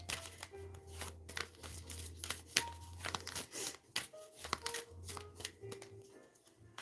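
Tarot cards are shuffled by hand in a quick, crisp flurry of riffles and slaps. Irregular bursts repeat close by, with a low background hum and no talking during the shuffle.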